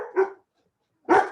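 A dog gives two short, loud barks separated by a brief silence, close and clear.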